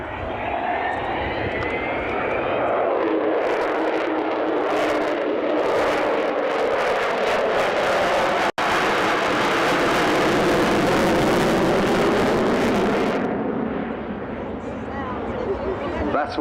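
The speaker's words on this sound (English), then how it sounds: "That's the sound of 4 Rolls-Royce Bristol Olympus engines" Avro Vulcan bomber with four Rolls-Royce Bristol Olympus engines flying past at the 2014 Dunsfold air display, heard from the crowd line as a loud, sustained jet roar that builds, peaks as the aircraft passes and then eases off.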